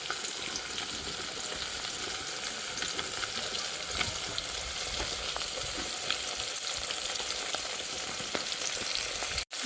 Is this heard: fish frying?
yes